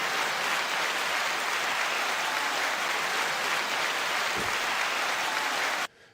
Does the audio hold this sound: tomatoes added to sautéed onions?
no